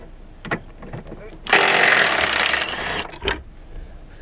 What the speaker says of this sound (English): I'm just going to use my nut gun. I'm just going to gun these out gently and carefully.